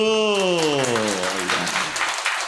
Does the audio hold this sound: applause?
yes